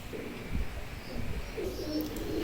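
Pigeons coo softly, low and faint, in a few soft bursts over a steady background hum.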